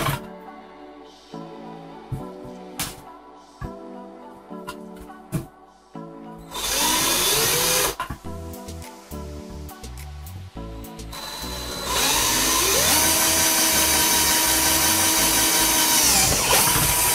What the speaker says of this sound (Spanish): y lo voy a atornillar ahí